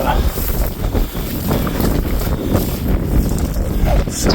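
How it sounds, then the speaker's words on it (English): Strong wind blowing across open prairie in the foothills of the Little Rockies near Zortman, Montana, a loud, steady roaring buffet of gusts battering the microphone without pause. "that wind is really starting to pick up a little bit"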